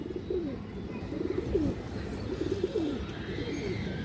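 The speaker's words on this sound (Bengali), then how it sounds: "একবারে পুরনো লাইনের কবুতর" Domestic pigeons of an old flying breed cooing close by, with repeated soft rolling coos in short phrases over a low murmur of background noise.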